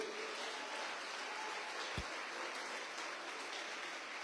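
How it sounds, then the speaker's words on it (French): A crowd at an awards ceremony for graduates applauds steadily in a broad, even wash of clapping, with one brief low thump partway through. "on peut encore les applaudir"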